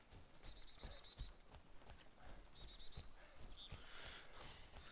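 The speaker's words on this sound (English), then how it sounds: "Oh, this stupid horse" Horse in the video game DayZ, with hooves clip-clopping steadily at a moderate pace alongside faint repeated jingling, fairly quiet and without speech.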